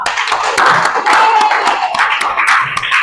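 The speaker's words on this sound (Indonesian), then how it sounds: "tepuk tangan untuk kita semua" A classroom group claps hands together, sharp uneven claps from a small crowd, close and fairly loud, continuing in bursts across the moment.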